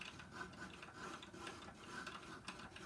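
A die cutting machine running at a card-making craft table, giving a faint, steady mechanical whirring with light ratcheting clicks throughout.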